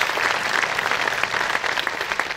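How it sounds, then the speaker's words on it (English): Applause from an audience at the Lake Tahoe Summit, a continuous, even patter of many hands clapping that stays moderately loud with no voices standing out. "A big round of applause, please."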